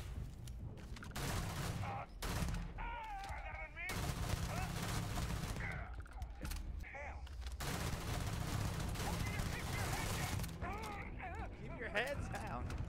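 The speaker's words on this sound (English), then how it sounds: "I love beaming down enemies with this rifle" Beam rifle fire in Starfield, repeated bursts of loud rapid shots against enemies alongside other combat sounds, with someone talking over much of the action.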